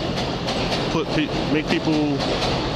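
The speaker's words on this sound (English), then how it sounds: "I'm under the train." A train clatters overhead while someone stands beneath it, a loud continuous rumble with rhythmic clicking and faint wheel squeals, a voice speaking underneath.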